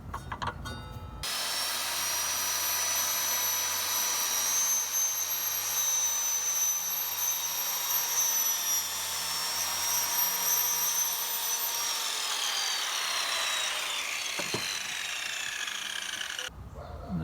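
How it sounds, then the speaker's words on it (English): Circular saw fitted with a fine 140-tooth steel blade slicing through rigid foam insulation board, a sustained high whining cut that runs steadily for most of the stretch, then stops abruptly. "this is the fine tooth, 140 tooth OSB plywood steel blade running in the right direction"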